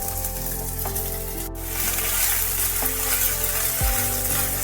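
Garlic paste and ginger paste sizzle steadily in hot oil in a pan during a tempering for a chana dal dish, a continuous close frying hiss with no talk.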